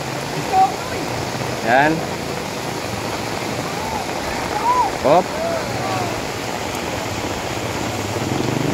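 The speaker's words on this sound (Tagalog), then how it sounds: "malakas na talaga yung ulan" Steady heavy typhoon rain hisses throughout, with a couple of brief spoken exclamations cutting in over the downpour.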